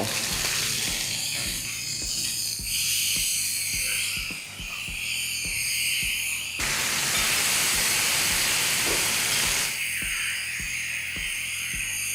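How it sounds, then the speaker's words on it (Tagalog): Beefsteak for bistek tagalog dropped into a hot pan: a loud, continuous sizzle and hiss that surges and dips, with faint clinks and scraping from cooking utensils underneath. "Ito na yung ating mainit na kawali at ilagay ko na lahat ng ating beefsteak dito"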